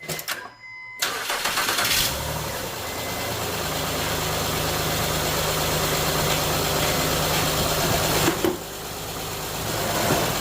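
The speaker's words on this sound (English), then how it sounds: "So let's give this thing a crank." A Honda Odyssey 3.5L V6, just fitted with a replacement generator, cranks over briefly and catches, then settles into a steady, close idle that runs on alone for the rest of the stretch.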